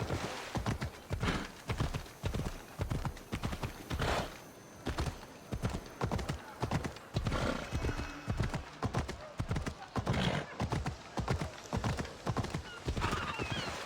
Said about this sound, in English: That's a nice horse, Socrates. It's a very nice horse.